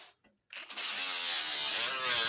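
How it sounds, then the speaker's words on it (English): A small 3-inch orbital dual action sander spins up and works over metal welds, a steady high whirring buzz after a brief start, close and alone. "a little 3-inch orbital dual action sander"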